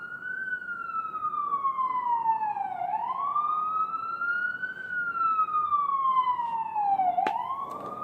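Emergency vehicle sirens wail outside, sliding slowly up and down in long repeating sweeps at a steady, moderate level, with no talking.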